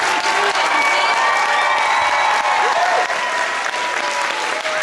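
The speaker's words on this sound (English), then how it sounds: "So let's give one last round of applause to all of our seniors and our entire campus." A high school theater audience gives a final round of applause for the seniors after a performance of Once Upon A Mattress, sustained, loud clapping from a full house with faint cheering mixed in.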